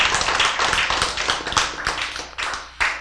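An audience clapping, a dense patter of sharp, irregular hand claps close by, fading briefly and resuming toward the end.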